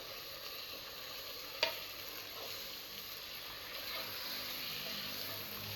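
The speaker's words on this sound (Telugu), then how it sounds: "మనం కలిపి పెట్టుకున్న మటన్ వేసేసుకుందాం." Mutton goes into a pan with fresh curry leaves for hotel-style mutton gongura, giving a soft, continuous sizzle with one sharp clink early on, fairly quiet and without speech.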